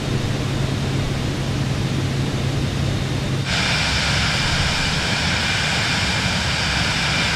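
A Cirrus SF50 Vision Jet engine in Microsoft Flight Simulator gives a constant, loud broadband whoosh that shifts abruptly to a brighter, hissier tone partway through, no talking.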